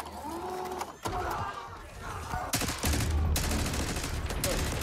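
Gunfire in the Black Ops 6 video game campaign, with dense, sustained bursts of rapid shots building into a loud, continuous barrage, while voices talk faintly underneath.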